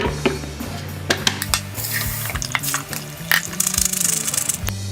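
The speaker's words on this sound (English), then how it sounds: "get your strainer, put that in your sink, get your soaked nuts" Soaked walnuts are tipped into a metal strainer over a kitchen sink, giving sharp clinks and rattles and a wet pattering under a low hum, close and fairly loud, with no talking.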